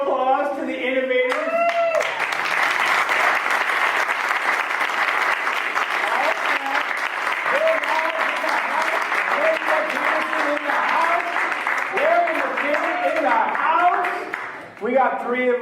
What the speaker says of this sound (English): a round of applause to the innovators